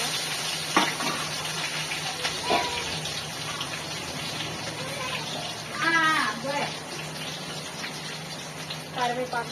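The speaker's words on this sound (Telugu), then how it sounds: "వీటిని అయితే మంచిగా ఫ్రై చేసుకుంటున్నాను" Curry leaves, sliced onion, dried red chillies and green chillies frying in a pan, a steady close sizzle and crackle with stirring scrapes, while someone talks over it now and then.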